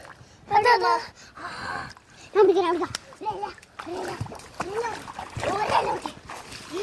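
Water splashes in a shallow village stream where children are bathing and looking for fish, while they talk and call out close by.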